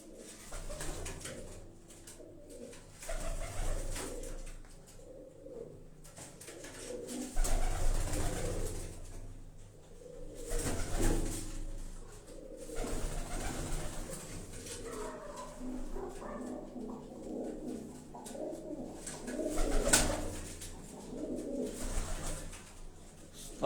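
Migratory pigeons on a Karachi rooftop coo repeatedly in soft, low rolling calls, several birds close by, with occasional faint background noises between the calls.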